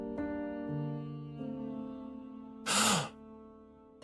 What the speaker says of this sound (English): That was an awkwardly loud gasp, I must say.